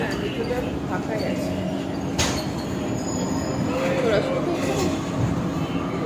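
A Kolkata metro train heading to Shyambazar rumbles along steadily with occasional wheel squeals and rattles, while people's voices murmur in the carriage.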